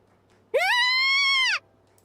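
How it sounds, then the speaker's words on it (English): A female character in a visual novel video game lets out a single high, sustained shriek lasting about a second, loud and close, over a faint background hum. "She lets out a shriek and tries to hide behind the counter."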